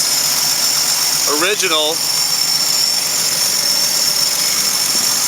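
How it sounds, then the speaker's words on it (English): A 1960 Willys truck's rebuilt Super Hurricane flathead six runs with a steady, close, even drone throughout, and a voice speaks briefly over it. "Super Hurricane flat head 6 motor."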